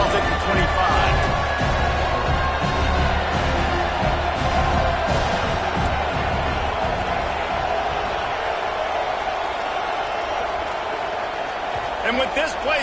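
A stadium crowd roars steadily at a football game on third and long, loud and sustained, with announcers talking over the noise.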